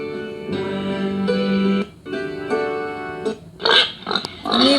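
Recorded pig grunts and oinks, played back during a classroom lesson on animal sounds: a few long, buzzy calls at first, then shorter, rougher snorts toward the end, loud and with no talking over them.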